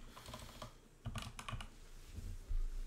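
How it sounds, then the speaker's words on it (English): Keystrokes on a computer keyboard while entering an Excel function, a quick cluster of sharp clicks in the middle followed by a couple of heavier key presses, close and fairly quiet with no talking. "I'm going to type DAverage."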